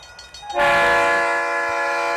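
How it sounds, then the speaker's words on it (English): A loud, sustained train horn blast kicks in after a brief rattle of rail noise and holds steady as a chord-like blare, played as a sound effect for a stream hype train. "That fires off the hype train."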